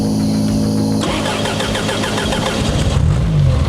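A 1984 Chrysler LeBaron's 2.6-litre engine with Mikuni carburettor, suspected stuck fuel shutoff solenoid, cranks and fires, running on briefly with a rough mid-pitched rumble and sputter before dying, close and loud.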